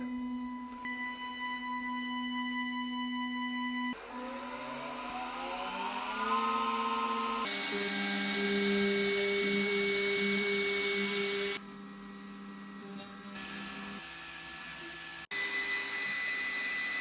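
A Makera Z1 CNC machine's spindle whines loudly while milling with a larger drill bit, motors rising and shifting pitch, with stepping changes between passes, continuous and close, no voices.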